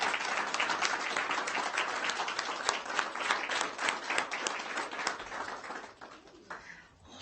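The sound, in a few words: applause at a school board meeting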